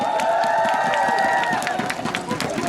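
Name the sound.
baseball crowd applause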